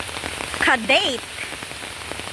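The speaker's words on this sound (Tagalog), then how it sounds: "Uy, lumakas na yung ulan." Heavy rain pours steadily across an orchid garden in Singapore, a dense hiss throughout with a voice speaking briefly over it.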